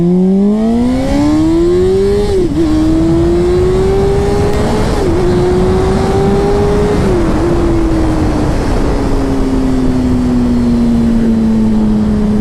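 A 2009 Honda CBR 600RR motorcycle accelerates hard through second gear, its engine note climbing steadily with brief dips at shifts, loud and close throughout with heavy wind rush and no talking.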